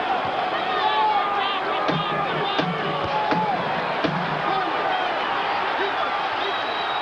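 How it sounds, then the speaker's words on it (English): A crowd at the Atlantic City Convention Center applauds and cheers after a heavyweight boxing fight ends, a dense, steady roar of clapping and voices filling the whole stretch, with a broadcaster talking over it. "the crowd at the Atlantic City Convention Center comes to its feet to applaud that"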